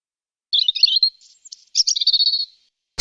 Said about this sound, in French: Soudain, le rouge-gorge fit comprendre qu'il avait drôlement faim.